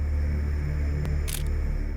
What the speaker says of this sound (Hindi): आ जाओ जरा ये फोटो खींचो फटाफट